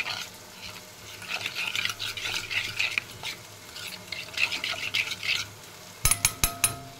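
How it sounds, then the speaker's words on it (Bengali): Spice paste of ground coriander and cumin whisked with water in a bowl, giving soft repeated scraping and stirring strokes, fairly faint and close, ending with a few sharp clinks of utensil on the vessel. "এবার জল দিয়ে এই মশলাটাকে ফেটে নেব"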